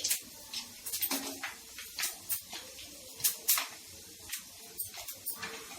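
Dried red chillies sizzle in hot oil for a pickle tempering, a fairly quiet, close patter of crackles and soft hissing bursts without talk.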